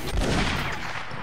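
Dense, continuous crackle of musket-style gunfire fills a line battle video game match, many shots overlapping into a steady roar with no distinct gaps.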